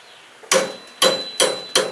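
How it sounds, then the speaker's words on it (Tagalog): An electric trike or e-bike motor is struck with a hammer to make it turn, giving four sharp metallic blows at an even pace, loud and close, each with a short ringing decay. "Pupukpukin ko siya dito para siya umikot."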